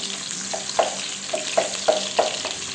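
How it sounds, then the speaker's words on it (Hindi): A medium onion frying in hot oil for beef yakhni pulao, a soft steady sizzle with several distinct stirring scrapes and clinks at irregular intervals, close and clear with no talk. "प्याज को जो है हमने सुनहरा कर लेना है"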